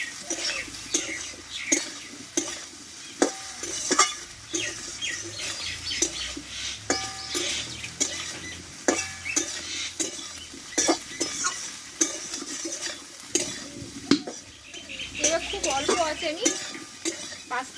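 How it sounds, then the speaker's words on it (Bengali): Soybean chunks and potato are stir-fried in a pan, with continuous sizzling under frequent clanks and scrapes of a spatula against the pan, busy and close. "এখানে সোয়াবিনটা আমি ঢেলে দেবো দিয়ে আলুর সঙ্গে একসঙ্গে ভালোভাবে সোয়াবিনটা আমি কষে নেবো"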